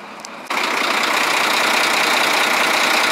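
An idling engine with loose, unadjusted valves that tap and knock, the tone coming on abruptly after a brief quiet start and then running as a steady, loud, even rattle close to the microphone.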